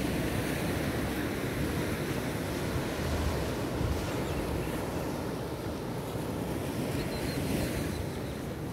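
Pacific surf at Playa La Puntilla, El Salvador rolls in as a continuous broad wash of breaking waves, steady and fairly loud with some wind buffeting the microphone and no voices.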